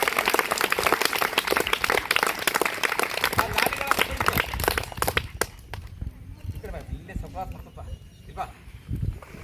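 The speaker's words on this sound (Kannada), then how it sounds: "ಜೋರಾದ ಚಪ್ಪಾಳೆ ಮತ್ತು ಅಭಿನಂದನೆ ಕೊಡ್ತೇವೆ" Loud applause from a school gathering honoring a donor, the owner of Jogur Motors, dense clapping for about five seconds that then thins out into scattered claps and murmuring under nearby activity.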